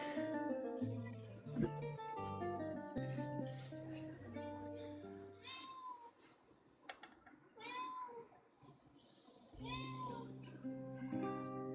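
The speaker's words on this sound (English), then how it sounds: "why can't I get my cat to be quiet?" A pet cat meows repeatedly with long, wavering harmonic cries. The calls are fairly close and come in irregular bursts over about twelve seconds, with occasional background sounds between them.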